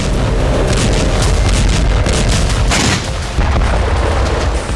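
Explosions in a war zone in Ukraine or Gaza rumble loud and deep in a sustained, heavy roar, with a sharper blast partway through and no voices.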